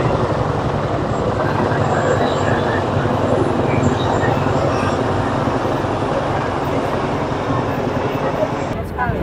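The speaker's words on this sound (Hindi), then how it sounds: "ये बिल्कुल हमारे सरों के ऊपर मौजूद है हेलीकॉप्टर इस वक्त" A helicopter passes low overhead during a National Day Parade rehearsal in Singapore, producing a loud, steady, heavy rumbling roar that fills the whole stretch without a break.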